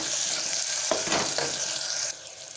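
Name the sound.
onions sautéing in a pan for chicken curry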